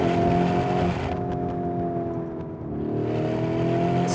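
A Lamborghini Urus engine note, a deep harmonic drone that rises and sags in pitch as the revs build, ease off and climb again, loud and close with no voices over it.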